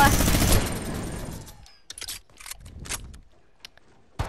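A fast burst of infantry rifle fire in a video game, a dense loud rattle that cuts off, followed by scattered sharp mechanical clicks and a few distant single shots.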